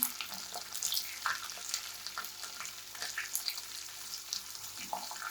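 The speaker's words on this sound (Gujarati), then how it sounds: "વઘારને આપણે ચલાવી લઈશું" Cashews in a tempering for pongal sizzle quietly in a pan, soft crackles and spits rising and falling with occasional scraping as they are stirred, close and faint, with no talking.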